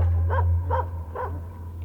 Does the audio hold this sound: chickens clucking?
no